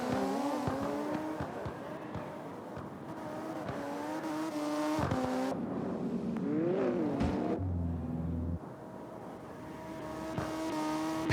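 Nissan S15 drift car at Silverstone: the engine revs up and down in long pulls with a buzzy, raspy tone and bursts of tire squeal, fairly distant and swelling toward the end.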